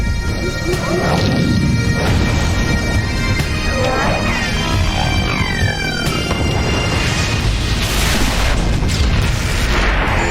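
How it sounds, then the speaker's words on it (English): Sentry guns pound a ship in the space game EVE Online, loud repeated crashing booms and impacts stacking densely over ten seconds with no letup. "all the guns are firing on us"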